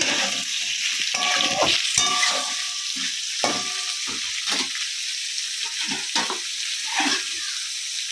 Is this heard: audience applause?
no